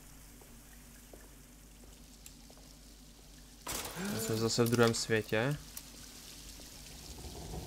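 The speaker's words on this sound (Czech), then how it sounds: "Slyším vodu." Water pours and trickles in a Alone in the Dark game scene, a sudden splashing burst arriving midway after a quiet stretch, with someone speaking Czech over it.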